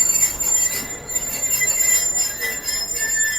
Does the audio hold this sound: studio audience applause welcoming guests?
no